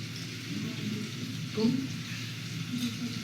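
Onion and tomato frying in a pan for homemade pav bhaji, a steady soft sizzle and crackle with a faint stir partway through, close and continuous.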